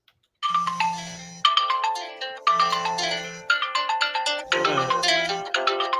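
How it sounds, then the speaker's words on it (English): A phone acting as a webcam rings with a loud melodic ringtone, the repeating chime pattern cycling several times with a low tone under some phrases, and no talking over it. "now it's ringing"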